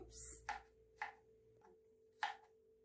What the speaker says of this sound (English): Then I'll also cut my seedless tomatoes into small cubes.